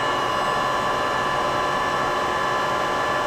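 An 18" x 40" Fryer CNC/manual combination lathe with its spindle running at 1,000 RPM, giving a steady, even mechanical whir and hum throughout, no talking.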